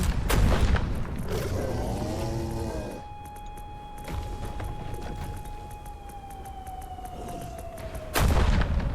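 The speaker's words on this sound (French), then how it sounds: "Attention, ça va péter. Attention, explosion." Explosions in the video game The Headliners crack out as loud booming bursts at the start, middle and end, while a steady siren-like tone sustains and slowly drops between them.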